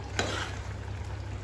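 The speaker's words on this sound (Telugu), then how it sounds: "సాల్ట్ వేసాం కదా, మనం నూనె వేసుకుందాము." Tomato chutney with ripe red chillies cooks in a pan of oil, a soft continuous sizzle and bubbling heard close, with one brief scrape of a utensil near the start.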